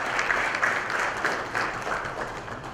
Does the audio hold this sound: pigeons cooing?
no